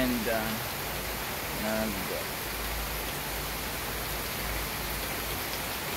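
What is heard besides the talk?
heavy rain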